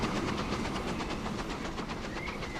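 A train in Transport Fever 2 runs along the rails with a steady rhythmic clatter of wheels over track joints, fairly loud and continuous, with no voices.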